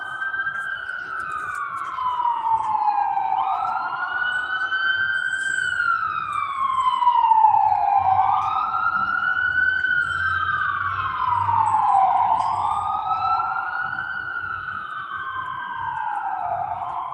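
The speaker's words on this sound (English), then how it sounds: "Hear the sirens?" Emergency vehicle sirens wail outside, rising and falling in long repeating sweeps, loud and steady over a low background rumble.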